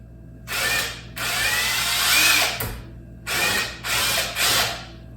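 Several bursts of a power drill whirring loudly, each run lasting a second or so, with short pauses between as star-head screws are driven at a new home build.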